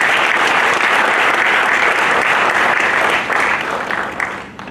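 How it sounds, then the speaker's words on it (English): Loud, dense applause from the audience at a military staff course graduation ceremony, going steadily and then fading near the end. "Congratulations and a round of applause."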